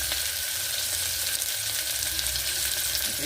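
Onions frying in a pan give a steady, close hiss and crackle of sizzling oil that holds evenly throughout, with no voices.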